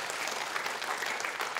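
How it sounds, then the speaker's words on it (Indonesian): Church audience applauding in a short burst of steady, dense clapping at moderate distance, with no speech over it. "berikan tepuk tangan"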